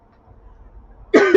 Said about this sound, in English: Every time I come in this dusty ass room, I start coughing.